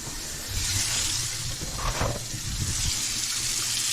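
Water runs steadily from a just-repaired sink faucet, a continuous close hiss and gush filling the space for the whole stretch with no talk over it.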